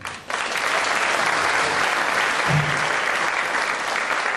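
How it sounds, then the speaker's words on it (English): A magic show audience breaks into a full round of applause for a volunteer named Sharon, the dense clapping loud and sustained from start to finish with no voices over it. "let's give Sharon a huge round of applause"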